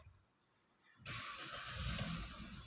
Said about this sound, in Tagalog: susubukan pong paandarin